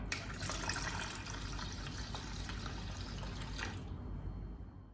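Water pours steadily into a thick neer dosa rice batter for about four seconds, then stops abruptly; no one speaks.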